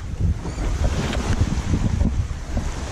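Wind gusts over a sailboat cruising the Mediterranean coast between Cassis and Bandol, with a rough, buffeting roar of wind on the microphone and low water rumble, steady and close, with no voices.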